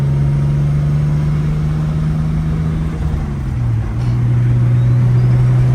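Ride along in a Nissan Skyline GTS turbo, a loud, steady engine drone heard from inside the car, with the pitch dipping briefly near the middle before settling again, with no talk.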